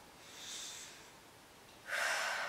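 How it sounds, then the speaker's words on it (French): A deep exhale during a vinyasa yoga session: a soft breathy rush rises briefly, fades, then returns as a louder, sustained airy outbreath close to the ear, with no talking. "On inspire, on expire profondément."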